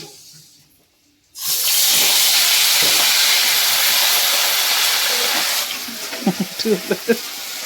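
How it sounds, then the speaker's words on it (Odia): Fish dropped into hot oil on a home stove bursts into a loud, sudden hiss that sizzles steadily for several seconds, then eases into crackling pops near the end. "ଏ ଆସିଲା ଆମର ଚୁଲିରେ ମାଛ ଭଜା।"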